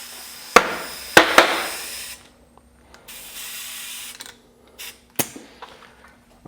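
Air compressor blowing into a tubeless bicycle tire: a few sharp, close bursts of hissing air with clicks, then quieter intermittent hisses and ticks.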